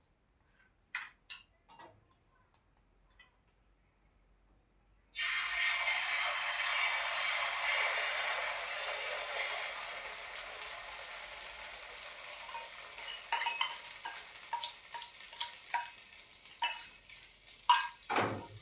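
An egg omelette frying in a pan gives a soft, steady sizzle that starts abruptly after a few faint clicks and taps, then continues evenly with occasional small pops and scrapes.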